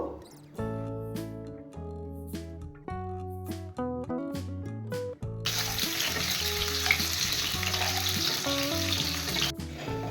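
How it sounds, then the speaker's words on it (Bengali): Parboiled potatoes fry in hot mustard oil for a Bengali aloo dum, a steady loud sizzle that starts halfway through after a stretch of background music and continues under the music to the end. "তেল গরম হয়ে গেলে আগে থেকে এইটটি পার্সেন্ট সেদ্ধ করা আলুগুলো ভেজে নেব"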